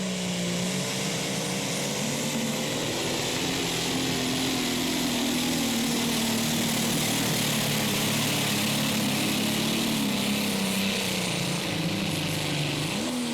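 A pro stock pulling tractor engine at a Franklin, Kentucky pulling event runs rough at low RPM, a loud, continuous droning roar with a wavering, uneven pitch and slight bouncing surges throughout.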